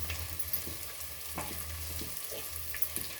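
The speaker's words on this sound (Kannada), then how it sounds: "ಹಾಕ್ಕೊಂಡು ಒಂಚೂರು ಫ್ರೈ ಮಾಡ್ಕೊಳ್ಳೋಣ." Cardamom, bay leaf and green chillies frying in a pan, a soft steady sizzle with scattered light knocks and taps from the pan.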